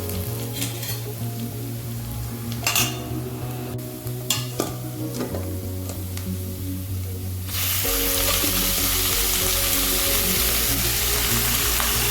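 Raw chicken, about three quarters of a kilo washed with turmeric, drops into a hot pan for green hariyali chicken and bursts into a loud, steady sizzle that grows to a bright, dense hiss, with some stirring and clatter early on.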